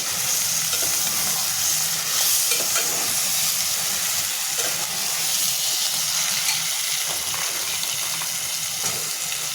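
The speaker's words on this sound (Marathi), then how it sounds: "आपण थोड्या थोड्या भाज्या घालून मिक्स करून घेणार आहोत" Chopped vegetables being stirred into a hot spiced masala for veg biryani: a continuous loud sizzle with wet scraping and stirring close by, steady throughout, with no voices.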